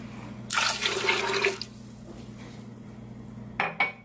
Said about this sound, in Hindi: और 2 गिलास पानी डालेंगे।